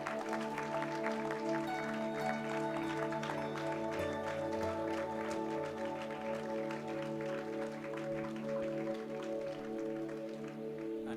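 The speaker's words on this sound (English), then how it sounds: "Can we have a big round of applause?" Audience applause at a business school conference and awards ceremony, a steady wash of clapping heard faintly beneath a loud sustained musical tone throughout.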